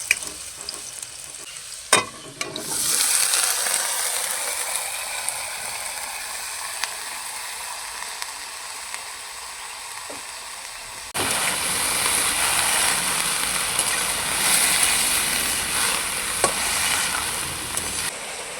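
Shredded cabbage sizzles and crackles in a hot pan while being stirred, a steady frying hiss broken by scraping strokes, growing louder and brighter partway through.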